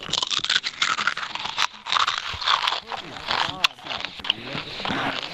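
Crunchy crisps or snack bitten and chewed close to the microphone, a series of sharp crackling crunches with chatter and laughing voices around them.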